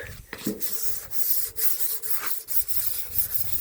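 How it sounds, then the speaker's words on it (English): Sandpaper rubbed by hand in swirling strokes over a car bonnet panel being prepped for spray painting, a close, rhythmic series of raspy scrubbing passes with no talking. "Okay, just a quick sand, just swirling motion like that."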